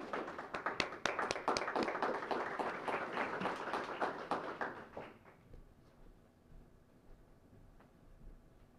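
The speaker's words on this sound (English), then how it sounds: "Let's give all these winners a big applause." An audience at a hall of fame induction ceremony claps for award winners, a burst of many hands heard close that fades out after about five seconds, leaving a quiet room.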